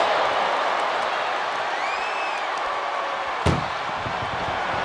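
A single loud slam of an ambulance's back door in a WWE 2K wrestling game, one sharp hit partway through over a steady roar of arena crowd noise.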